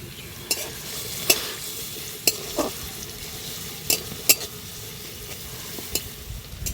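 Chopped garlic and onion sizzle softly in hot oil in a pan, with scattered sharp clicks and scrapes of a spoon stirring against the metal.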